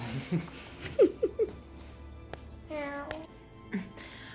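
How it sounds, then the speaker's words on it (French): A pet cat meowing in a home: a few short, close mews early on, then a longer wavering meow, with soft sounds around it. "regardez mon petit chat là, ce mignon petit chat"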